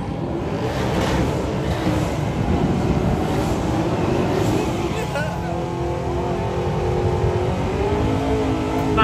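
A new Ford Mustang at a drag racing event, its engine giving a steady, loud roar with rising revs near the end, amid outdoor crowd noise and people talking.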